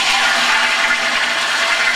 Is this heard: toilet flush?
yes